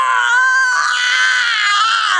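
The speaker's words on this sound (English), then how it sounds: "He shrieked as he whizzed down the wire." A performer's voice delivers a man's loud, high-pitched shriek as he whizzes down a wire, one unbroken cry held close for about two seconds.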